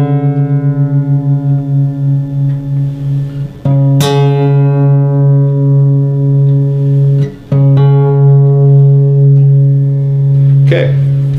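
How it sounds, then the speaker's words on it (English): A single guitar string rings and sustains while its machine head is turned during tuning; the pitch wavers and steadies, with a few fresh plucks re-sounding the note, close and clear with no talking. "I'm going to reach for the 3rd machine head, this one, and I'm going to adjust it until I think it sounds in tune"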